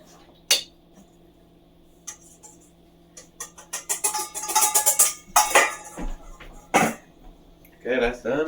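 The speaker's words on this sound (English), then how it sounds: "Now I gotta whisk the powdered sugar and flour together" A whisk works powdered sugar and flour together in a bowl, making irregular clinks and scrapes that build into a busier clatter, with a cough or throat-clearing in between.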